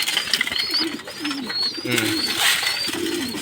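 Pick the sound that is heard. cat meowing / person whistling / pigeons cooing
pigeons cooing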